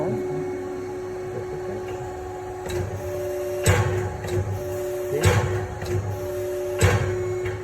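Pratika ECO jewelry stamping press running, a steady electric machine hum with a tonal whine, broken by several sharp mechanical thumps and clacks at irregular intervals, close by.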